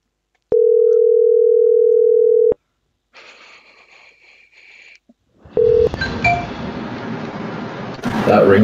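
A phone ringtone rings as a steady electronic tone for about two seconds, followed by quieter beeping tones. A burst of noisy clatter and a short repeat of the tone come at the end.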